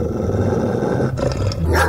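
A huge dog roars and growls angrily in a loud, continuous snarl, with a second rough burst toward the end.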